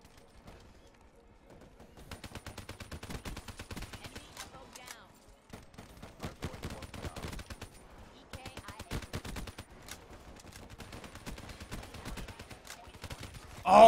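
Rapid automatic gunfire from a Black Ops 3 match, bursts of sharp shots firing in quick rhythmic volleys with short pauses, loud and close throughout, ending in a sudden louder blast.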